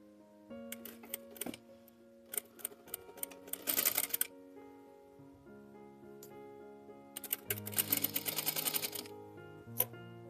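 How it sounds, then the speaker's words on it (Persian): Sewing machine stitching a fabric seam with a 1 cm allowance for a long abaya-style dress, running in bursts of rapid needle clatter separated by pauses, close and fairly quiet with soft background music. "از این قسمت دوختمون رو شروع میکنیم و با 1 سانت جای دوختی که براش در نظر گرفتیم دوختمون رو ادامه میدیم"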